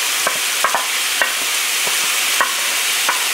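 Garlic and onions cook gently in a pan for spaghetti sauce with rib tips. A soft, even hiss continues throughout, punctuated by several sharp utensil clicks and scrapes.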